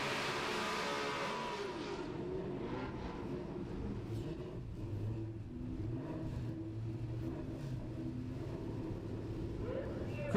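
Factory stock drag racing car at an NMRA event launching down the strip, a roaring engine that fades and lingers under a public-address announcer's voice, fairly distant and mixed with crowd ambience.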